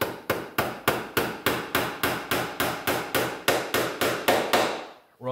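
A nail is driven into a wooden Civil War issue tent pole with about seventeen steady, evenly spaced hammer blows, loud and close, ending in a brief pause with no talking.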